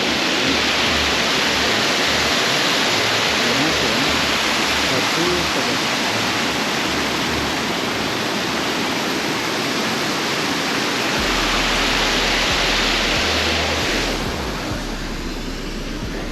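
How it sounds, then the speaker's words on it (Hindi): Water rushes continuously through a channel at Lalbagh Botanical Garden in Bangalore, a loud, dense, steady flow close by with no break. "यहाँ तक पूरा पानी ऐसे बहता है। वाह, पानी बहुत ज़बरदस्त है।"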